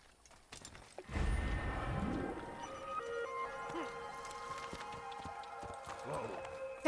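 A horse gallops in the 2007 video game Assassin's Creed, a rhythmic clip-clop of hooves under steady game sound with musical tones, while a player talks over it.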